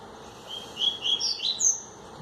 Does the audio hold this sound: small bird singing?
yes